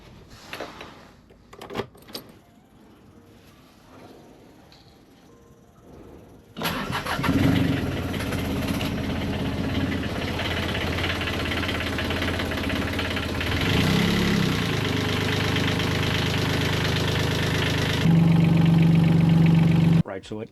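An old engine aboard a 51-year-old sailboat cranks and catches after a quiet stretch, then settles into a steady, loud idle with a rough knocking hum that holds for over ten seconds.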